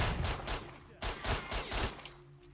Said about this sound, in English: The pistol is almost unwieldy to use for the recoil it's generating